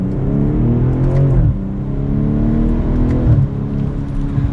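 A 2022 BMW M440i xDrive Gran Coupe accelerates up to speed, its engine droning loud and steady with rising and falling pitch as it shifts through gears.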